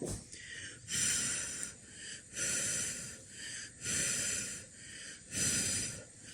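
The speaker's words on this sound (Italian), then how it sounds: "Aspetta, li soffio un attimo." Someone blows on hot cannelloni to cool them in short breathy puffs, about five of them in a steady rhythm, close up and soft.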